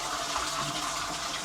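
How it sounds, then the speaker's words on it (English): A Japanese apartment toilet flushes while its tank refills through the hand-wash basin on top, a loud continuous rush and trickle of water close by. "when you flush the toilet, the tank refills, right?"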